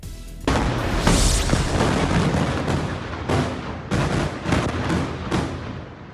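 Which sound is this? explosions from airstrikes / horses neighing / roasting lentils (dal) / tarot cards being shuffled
explosions from airstrikes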